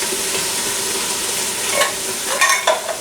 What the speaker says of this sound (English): We'll stir that around first. And I just want, just let the corn and the salsa get a little color on it.